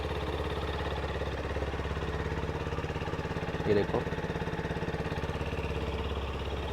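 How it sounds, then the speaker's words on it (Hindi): A TVS Apache RTX motorcycle idles steadily just after starting, a low even engine putter running throughout with a brief louder blip near the middle and a short spoken phrase over it. "सिंगल अटेम्प्ट पे ये बाइक स्टार्ट हो गई, एंड आइडियल कंडीशन पर आप इसका साउंड सुनिएगा"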